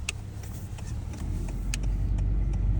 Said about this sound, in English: USPS delivery truck.